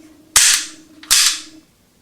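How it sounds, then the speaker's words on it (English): A 1930s all-metal Wyandotte toy pop gun fires twice, each a sharp metallic click-snap with a short bright ring, spaced under a second apart over a faint hum. "most of what you're hearing is just the metallic trigger mechanism, not so much of a pop"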